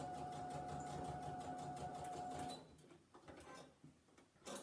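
Sewing machine running steadily as it stitches over the top of a Christmas wreath, a close continuous whir for the first half before stopping, leaving quieter handling noises.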